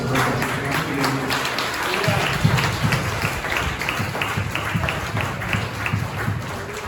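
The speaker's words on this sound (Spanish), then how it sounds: "Un aplauso a Dios por ahí a los jóvenes" A crowd claps steadily for several seconds, a dense patter of applause with a few voices mixed in underneath.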